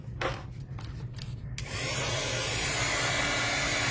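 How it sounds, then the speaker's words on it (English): A high-powered heat tool drying reactive ink: after some brief handling and rustling, the tool switches on into a loud, steady, close blowing whoosh that holds to the end. "And then we're gonna grab our heat tool and we're gonna get this guy dry."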